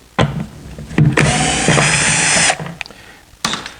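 A power drill backs two drywall screws out of a wooden mobile grill island cart, with short whirring bursts, a longer steady spin in the middle and a final brief burst, close and loud with ratcheting clicks between.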